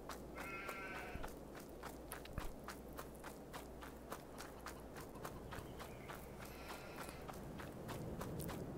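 Sheep in the video game Farming Simulator 22 bleat faintly in a few short calls over soft, steady footstep-like clip-clopping and low background noise.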